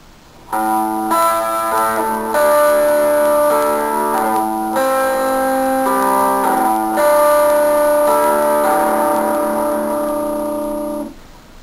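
A clean electric guitar rings out a short repeated riff, clear notes, loud and close, each phrase sustaining before the next begins.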